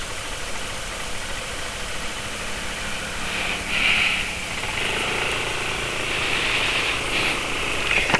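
A motorcycle engine running on Deltalube Adventure oil with about 2 km on it idles steadily and close, a continuous mechanical drone with a slight knocking texture and brief swells, with no talk.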